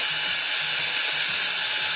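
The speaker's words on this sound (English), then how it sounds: "this is my little Bosch screw gun. It's got almost no power to it" A small, low-powered Bosch cordless screw gun spins steadily as it backs spark plugs out of an Audi A8 D4 4.2 V8, giving a loud, continuous high-pitched whine with no talking.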